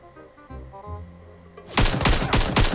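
Rapid automatic rifle fire in PUBG Mobile, an AK bursting in a fast rhythmic string of loud, sharp shots after a quieter stretch of game music and tones.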